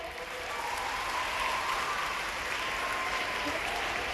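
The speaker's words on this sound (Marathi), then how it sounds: "आणि बसलेल्या मुलींनी जोरात टाळ्या वाजवायच्या." Steady, dense clapping from a seated group of schoolgirls in an indoor hall, a continuous even patter of many hands filling the whole stretch with no voices above it.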